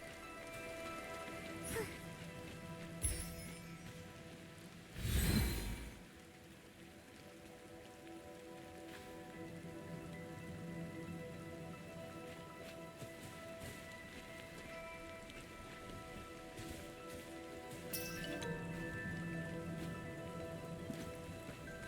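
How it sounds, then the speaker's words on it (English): Rain falls steadily in the Infinity Nikki game world, a soft continuous patter on surfaces at low level, broken by a few louder splashes or thuds, with no speech. "I love how refreshing the cool raindrops feel."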